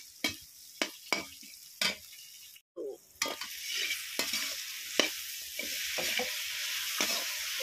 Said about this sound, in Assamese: এতিয়া মই ভাজি থাকোঁ